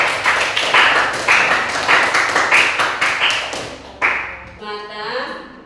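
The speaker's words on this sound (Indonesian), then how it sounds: "tepuk tangan dulu untuk Rasti." A classroom gives Rasti a round of applause in rhythmic bursts of clapping, loud and close, then it stops abruptly and a voice speaks afterward.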